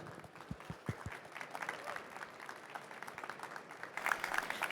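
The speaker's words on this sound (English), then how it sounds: "Please, can I get a warm applause for Ana Fontoura Gouveia." Warm audience applause at an energy conference greets a speaker, a few distinct near claps at first swelling into a broad steady patter of many hands, with a brighter surge near the end.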